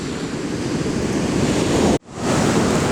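Heavy sea swell rolls onto a beach at the Carron River mouth, a loud, continuous broadband surf roar with wind buffeting, cut by a brief dropout near two seconds before the crashing wash resumes.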